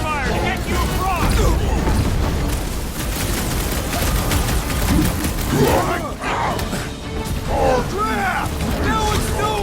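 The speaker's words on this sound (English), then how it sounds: "I'll lay down some cover fire to get you across." Rapid gunfire in the Guardians of the Galaxy video game, laid down as cover fire, with bursts of shots and crashing impacts running steadily through dense combat noise while voices talk over it.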